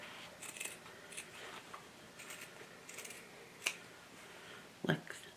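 Scissors trim heavy shirt facing fabric in a series of quiet, close snips spread across the moment, ending with a couple of sharper clicks near the end, all faint and with no speech.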